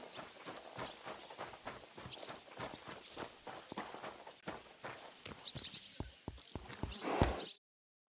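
Horse hooves clip-clop steadily in Kingdom Come: Deliverance II, a walking rhythm of hoof strikes close by that grows sharper and louder toward the end before cutting off abruptly.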